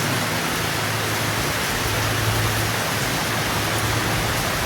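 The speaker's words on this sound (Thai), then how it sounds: "ลูกเห็บโดนกระจกหน้าต่างเปี๊ยกอยู่ตลอดเวลาค่ะ" Hailstones strike window glass during a summer storm, making a dense, steady, loud hiss of constant impacts that continues unbroken throughout, with no voices.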